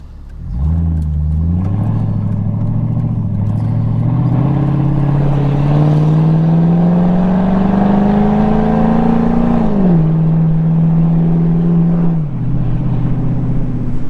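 A 2003 Mercedes-Benz SL55 AMG with a wide body kit revs loudly while driving, its engine note climbing steadily then dropping and settling, with no talk over it.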